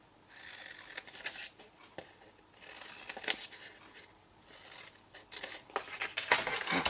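Scissors snip through card stock while trimming a small box for chocolate balls, giving several separate bursts of crisp cutting at close range, with faint rustling between the cuts and no one talking.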